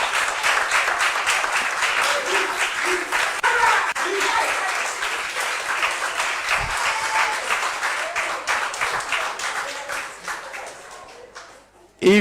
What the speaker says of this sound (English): it is the way you clap